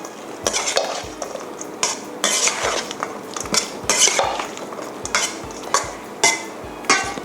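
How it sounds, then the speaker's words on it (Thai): Utensils toss a Thai salad of shrimp, cucumber and boiled egg in a bowl, making repeated close scrapes, clinks and wet squelches in an uneven rhythm. "จากนี้เราก็จะคลุกส่วนผสมให้เข้ากันค่ะ"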